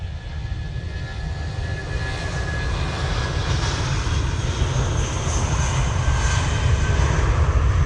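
An airplane takes off from Manchester Airport, its engines producing a loud, steady roar that builds gradually over several seconds, heard from nearby with no voices.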